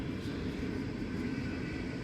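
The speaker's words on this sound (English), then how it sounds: "That train's a little rackety tonight." A big engine train rolls by outside at night with a rackety rumble, a steady, loud, low roar with no talk.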